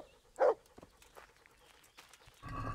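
Dog in the medieval video game Kingdom Come: Deliverance giving a single short, fairly loud bark, followed by soft scattered footsteps and low rustling amid quiet game ambience.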